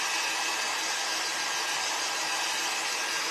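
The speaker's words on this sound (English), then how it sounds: "You can use a hairdryer too if you don't have one of those fancy dryers." A dryer blowing to dry decoupage paint gives a loud, steady broadband whoosh with a constant airy roar and no variation throughout, nobody speaking.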